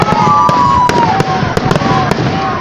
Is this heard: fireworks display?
yes